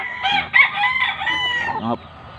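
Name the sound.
gamefowl rooster crowing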